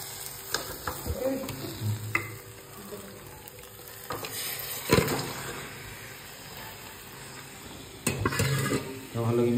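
Marinated chicken frying in a pan, a steady sizzle with intermittent stirring scrapes and clatters up close, some louder knocks of utensil against the pan.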